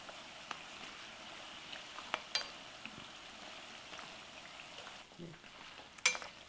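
Pakwans frying in hot oil while being stirred, a steady soft sizzle with occasional sharp crackles and spatters, close and alone.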